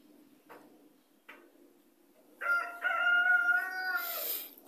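A rooster crows nearby, one long harmonic call rising and holding for a couple of seconds after a few quieter ticking sounds over a steady low hum.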